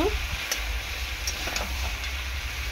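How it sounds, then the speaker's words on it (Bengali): Goat meat with ginger and garlic fries in a pan, with a dense, constant sizzle and a few light stirring clicks throughout. "আদা রসুন সব কিছু দিয়ে ভালো করে কষিয়ে নিচ্ছি।"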